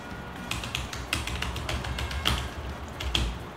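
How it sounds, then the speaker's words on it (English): Keys clatter on a compact keyboard case built for an iPad mini, with quick, irregular clicky taps close to the mic. Some strokes land harder than others, and no one talks. "And again, I'm going to type some nonsense words."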